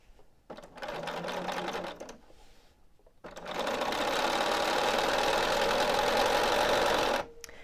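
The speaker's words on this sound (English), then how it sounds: "You're stitching straight across from this point to this point on a diagonal." A sewing machine stitches diagonally across quilt binding fabric in two runs, a short burst and then a longer steady run, each a fast continuous mechanical whir, close and fairly quiet.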